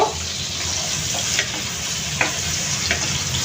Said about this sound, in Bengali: এখন আমি এক কাপ পরিমাণ পেঁয়াজ কুচি দিয়ে দিচ্ছি পেঁয়াজটাকে আমি একটু ভেজে নিব